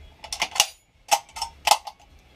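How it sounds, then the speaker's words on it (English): An SKS rifle is worked by hand, the bolt sliding back and the magazine opening in a few quick clusters of close metallic clicks and scrapes separated by short pauses. "Slide the bolt back, open the mag."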